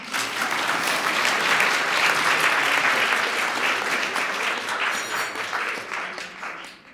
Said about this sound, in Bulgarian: Благодаря за аплодисмент.